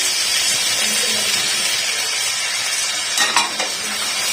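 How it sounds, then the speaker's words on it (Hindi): Garlic and ginger fry loudly in a pan for a lobia masala curry, a dense continuous sizzle and hiss up close, with a brief scrape of stirring near the end and no voices. "देखिए, माशाल्लाह से लहसुन अदरक फ्राई हो रहा है।"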